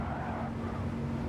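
Race car in Gran Turismo 7 skidding through a crash, a steady dense roar of engine and tyre scrub held at an even level throughout, with a faint whine running on top and no break.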